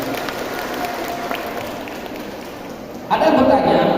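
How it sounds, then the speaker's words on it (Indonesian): At a scholarship distribution event in Sabang, Aceh, an audience breaks into applause near the end, after steady crowd murmur and talk. "Tepuk tangan buat bapak kita depan ini."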